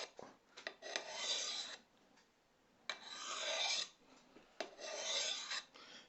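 A kobun knife sharpened along its edge on a stone or rod, giving three long, close, rasping strokes separated by short pauses and lighter scrapes, with no talking.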